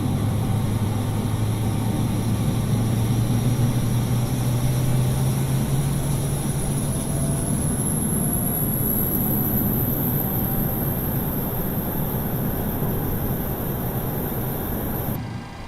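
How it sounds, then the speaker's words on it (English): A Boeing 737-700's APU starts up in Microsoft Flight Simulator 2020, a steady turbine whine rising slowly in pitch over a low rumbling hum, holding loud and continuous until it cuts off abruptly at the end. "you hear the APU firing up."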